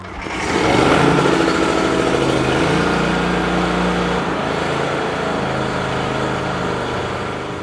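A lawn mower's small gasoline engine runs steadily to burn off its remaining fuel. The close, loud, even drone holds throughout after a quick rise at the start.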